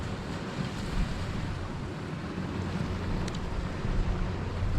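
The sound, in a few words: gusty easterly wind at the seashore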